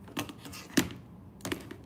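A computer keyboard gives a few sparse, close clicks, three distinct taps spread across a short quiet stretch.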